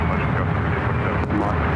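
A Fiji Airways Airbus A330 departing San Francisco International Airport, a loud continuous broadband jet engine roar that holds steady throughout without pause.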